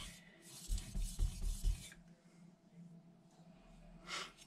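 Kitchen knife being sharpened on a Naniwa Aotoshi whetstone with slurry, a cluster of close, gritty rasping strokes early on, then quieter scraping with faint background noise.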